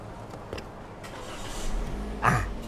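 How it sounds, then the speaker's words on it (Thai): A 2019 Toyota Vios 1.5 is push-button started, a brief starter crank followed by the engine catching and settling into a low, quiet idle, heard close by with a door open and no talk. "ให้ได้ยินเสียงเครื่องยนต์นะครับ"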